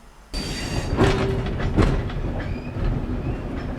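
A four-carriage diesel multiple unit on a heritage railway builds up power, its engine and wheel rumble rising sharply and staying loud and close, with rhythmic clacks and faint metallic squeals from the rails.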